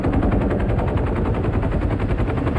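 Sustained rapid machine gun fire in a Vietnam War battle, a loud continuous rattle of rounds in quick even rhythm lasting the whole moment.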